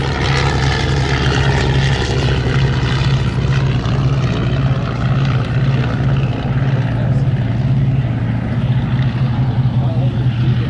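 Fokker triplane flying at Sywell Airshow, its propeller engine droning steadily and loudly with a pulsing, throbbing tone, while a voice commentates over the sound.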